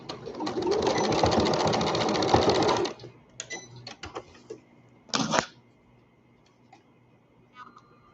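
An old serger sewing machine stitching fabric for a girl's elastic waist skirt runs in a loud, steady rapid whir for about three seconds, then stops, followed by a few brief clicks and rustles nearby.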